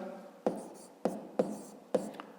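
Chalk taps and strokes on a classroom board during a fifth-grade maths lesson, four sharp evenly spaced knocks with short scratchy trails, heard under a soft background hum.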